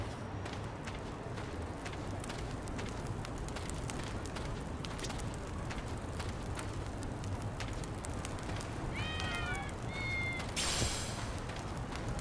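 Cats meowing in the video game Lost Judgment: a few short, rising meows near the end, set over a steady background of ambient noise.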